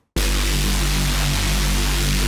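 Dry Reese bass patch in Vital for drum and bass, with no effects rack, kicks in after a brief gap as a sustained, detuned low growl with noisy upper wash, loud and steady, no talking.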